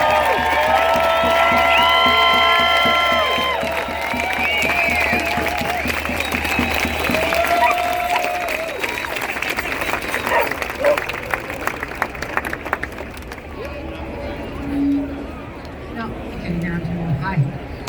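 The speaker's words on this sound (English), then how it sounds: "Can we get a big round of applause" A crowd at an outdoor freedom rally in Vancouver, B.C. breaks into loud applause and cheering, which thins into scattered claps and chatter, with a speaker's voice coming through.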